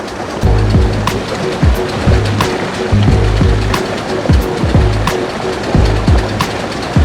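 Water gushes steadily from a village tubewell pump, a loud continuous splashing rush with a low rumble and recurring heavier pulses throughout.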